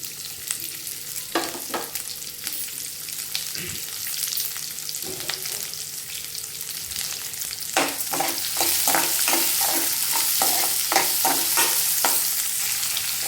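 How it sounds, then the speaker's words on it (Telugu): Tempering spices crackling and frying in hot oil for an upma, a continuous sizzle broken by clusters of quick popping and stirring clicks that grow denser toward the end. "ఇప్పుడు మనం తీసుకున్న పోపులు అయితే వేసేద్దామండి. వేసేసి ఇవి బాగా ఫ్రై చేసుకోవాలి."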